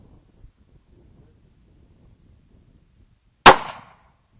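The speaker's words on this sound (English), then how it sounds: "I hit the tree limb. I shot the tree limb." A single sharp gunshot cracks out during a night hog hunt, loud and close, with a short echoing tail after a few seconds of near silence and faint rustling.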